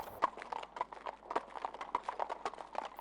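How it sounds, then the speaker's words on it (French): Horse hooves clop steadily on a hard surface in an even trotting rhythm, fairly close and clear. "Les sabots du cheval souvent nous réveillaient."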